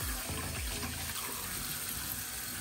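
Warm water runs steadily from a kitchen tap into a sink for dishwashing, a continuous broadband rush with low gurgling, fairly close and without talk.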